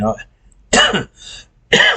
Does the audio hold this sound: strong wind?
no